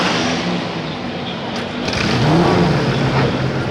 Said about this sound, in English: What a great sound as this absolutely elite field of not just drivers but machinery springs to life